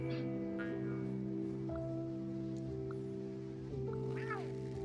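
A cat in the game Genshin Impact gives a couple of faint, short meows over steady game music that holds droning tones.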